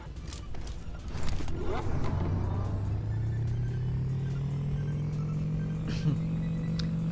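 A motorcycle engine in the PUBG Mobile game runs steadily, its drone rising in pitch as it speeds up and then holding at a constant loud level, with no talk over it.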